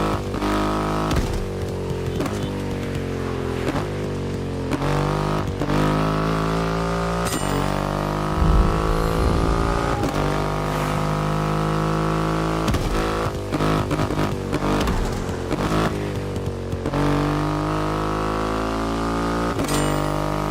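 A Triumph motorcycle engine in The Crew Motorfest video game drones loudly and continuously, its pitch climbing and dropping through repeated gear shifts, with a short rattling burst midway.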